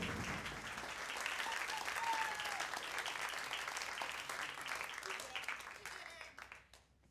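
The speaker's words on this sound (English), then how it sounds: "we'll give him a big applause" Audience applause at a stage hypnosis show for a volunteer named Ruben, a dense steady wash of clapping from a crowd that holds for several seconds before tapering off at the end.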